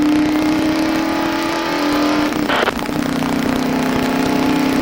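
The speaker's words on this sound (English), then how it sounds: "There's a Quaker State Buick leaving pit road" A Quaker State Buick race car leaves pit road, its engine droning loud and steady with a brief rev partway through, close by, with no talking.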